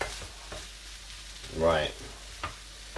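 A frank and beans omelette mixture of eggs, frankfurters and beans sizzles steadily in a frying pan while being stirred, with close scraping and a brief spoken word over the frying.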